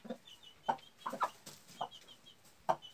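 Rooster clucks in short, separate bursts, a handful of close, clear calls spaced irregularly against a quiet background.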